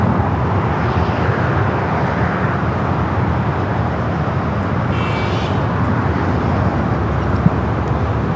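An Air New Zealand Boeing 777-300ER airliner pushes back at Los Angeles airport, its engines giving a loud, steady broadband roar that holds constant throughout without a break.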